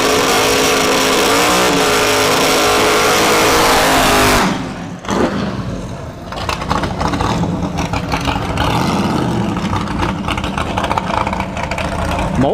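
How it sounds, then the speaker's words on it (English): A third-gen Camaro with a naturally aspirated big block and Powerglide drag races at ShowTime Dragstrip test-and-tune. The engine roars loud and close for four seconds, cuts off abruptly, then rumbles and crackles unevenly. "third gen Camaro. Big block with the power glide."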